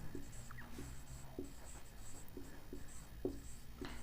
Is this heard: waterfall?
no